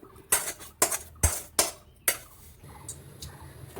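A cooked banana-flower mixture being scraped out of a pan onto an oiled plate, heard as five sharp, evenly spaced metal knocks of the utensil, close and loud, followed by softer scraping.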